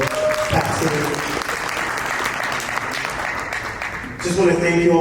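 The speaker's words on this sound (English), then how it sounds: "another round of applause, please, for Paxity" Many hands clap in a steady, dense round for a startup team at a university pitch competition, the applause holding evenly before a voice cuts in near the end.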